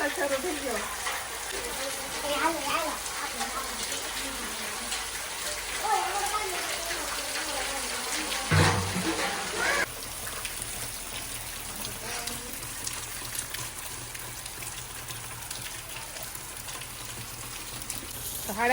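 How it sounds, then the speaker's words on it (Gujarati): Steady rain falls outdoors during monsoon season at a village home, a dense continuous hiss and patter with a brief louder burst midway, then settling back to an even wash. "મસ્ત મજાનો વરસાદ શરૂ થઈ ગયો છે"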